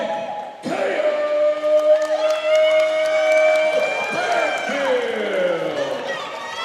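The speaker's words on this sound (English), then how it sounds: "Not quite the cheer that we heard for Carly Hallman, but a pretty good supporting cast here for Blake Mansfield." Boxing event crowd cheering and whistling as boxer Blake Mansfield is introduced, a loud, sustained roar of an arena audience with a ring announcer's amplified voice carrying over it.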